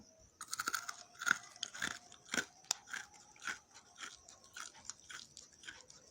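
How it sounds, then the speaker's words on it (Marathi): Close, crisp crunching as sesame and jaggery chikki is bitten and chewed, with about ten sharp crunches in an uneven rhythm over six seconds and no talking. "आवाज ऐकू शकता तुम्ही एकदम कुरकुरीत अशी आपली ही चिक्की तयार झालेली आहे"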